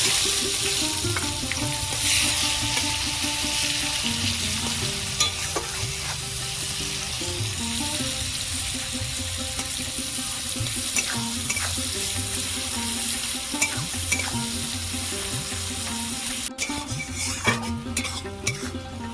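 Chopped onion, dried red chilli, whole cumin and bay leaves sizzle steadily in hot oil in a pan. Occasional spatula scrapes and stirring clinks punctuate the close, continuous frying, with no voices.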